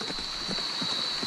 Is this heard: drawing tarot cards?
no